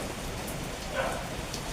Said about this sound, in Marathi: आमच्याकडे पाऊस खूप चालू आहे.